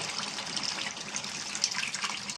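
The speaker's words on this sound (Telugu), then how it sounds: "దీంట్లో చింతపండు పులుసు వేసుకున్నామండి మనం" Tamarind juice poured into a pan of fish curry, a steady liquid splash and gurgle lasting a couple of seconds, close and fairly quiet.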